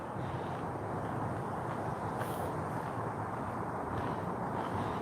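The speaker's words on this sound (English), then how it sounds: "The noises you can hear are vehicles going over the bridge." Traffic crossing the Humber Bridge, heard from the bridge's anchorage on the Hessle foreshore, makes a steady, continuous low roar mixed with wind noise, with no pauses or distinct individual vehicles.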